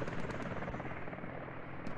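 A helicopter in a video game thuds with a steady rotor beat, a continuous loud pulsing drone with no voices over it.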